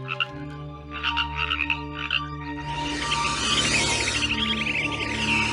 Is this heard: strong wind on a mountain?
no